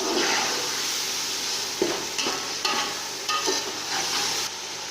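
Green chillies sizzle steadily in hot oil, with occasional scraping stirs of a utensil against the pan.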